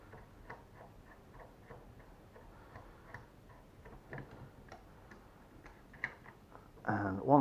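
Threaded end being unscrewed from a KWA TK45 airsoft pistol, a series of small close ticking clicks at an uneven pace, ending in a louder handling rustle.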